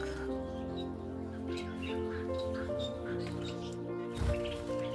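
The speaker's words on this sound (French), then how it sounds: "Les petits mandarins." Zebra finches in an outdoor aviary give small, rapid chirps and twitters, fairly faint and continuous, with a brief louder bump near the end.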